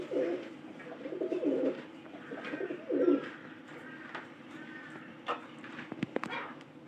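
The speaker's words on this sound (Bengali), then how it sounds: "এই পায়রাটা 4 নম্বর খড়ের পায়রা।" Pigeons kept in a loft with straw nests, cooing in several low throaty bursts close by, with scattered faint knocks and clicks between the calls and no talking.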